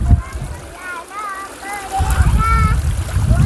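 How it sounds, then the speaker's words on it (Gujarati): A river stream at Fot Mahadev near Nakhatrana rushes and splashes steadily nearby, while children and other people chatter and call out over the flowing water. "પાણીનું ઝરણું અહીંથી વહી રહ્યું છે"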